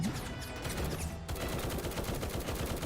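Rapid gunfire in the Roblox War Tycoon battle game, loud and dense automatic bursts rattling without a break over a constant busy game background.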